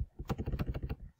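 Computer keyboard typing, a quick burst of about ten close, rhythmic key clicks over roughly a second, with no talking.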